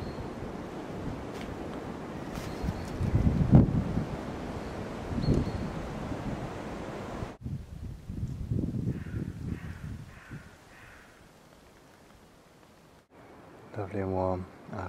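Wind gusting across the open South Downs on a walk from Buriton to Elsted, a broad rushing roar buffeting the microphone, then dropping off into quieter, sheltered air before a brief burst of nearby sound.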